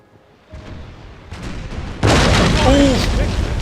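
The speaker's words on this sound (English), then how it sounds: "We just need to put a few round shot into him to force him to surrender." Cannons fire round shot at a ship in a Napoleon: Total War naval battle, with a loud boom and sustained rumbling blast that follows quieter thuds, mixed with battle noise and voices.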